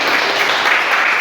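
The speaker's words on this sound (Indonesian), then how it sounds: "Terima kasih, tepuk tangan." Applause rings out after a student presentation in a university entrepreneurship class, a short, steady burst of clapping from the room with no talking over it.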